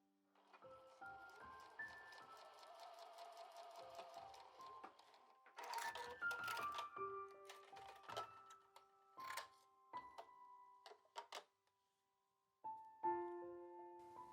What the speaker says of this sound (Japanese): このように最初に布を重ねてミシンで縫いますよ。